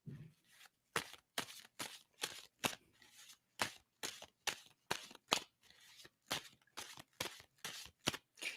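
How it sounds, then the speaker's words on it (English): Cards being shuffled in a steady series of about twenty short, crisp riffling bursts, close and fairly quiet, with no talk. "And I'm going to stop shuffling on that."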